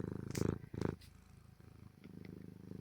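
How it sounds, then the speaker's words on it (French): A soft, steady purr rumbles close by, opening with a few louder breathy bursts before settling into a low continuous drone. "Ronronne un peu pour eux."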